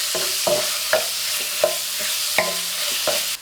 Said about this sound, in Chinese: 油热后加入切好的肉丁， 不停地翻炒，炒出肉里面的油脂。